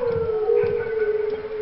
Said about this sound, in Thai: หมาหอนก็มาวะ